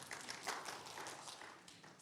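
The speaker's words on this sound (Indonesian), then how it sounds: "kasih tepuk tangan dulu dong buat David" Applause from a church congregation during a sermon, a quiet, steady wash of many hands clapping for a couple of seconds, heard from a distance with no voices over it.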